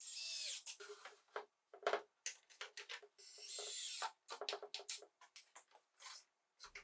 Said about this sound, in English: I'll add some screws in from underneath.